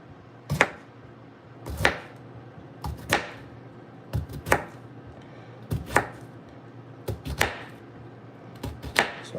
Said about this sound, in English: So as you can see, I'm cutting these red potatoes.